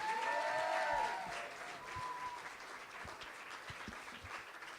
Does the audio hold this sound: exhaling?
no